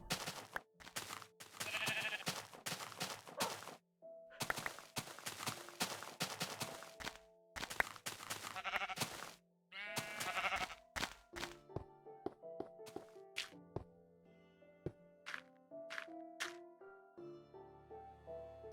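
Sheep bleat in several wavering bursts amid dull thunks and knocks, then give way to a string of bright melodic tones near the end.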